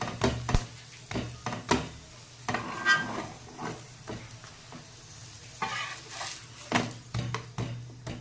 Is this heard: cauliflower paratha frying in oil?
yes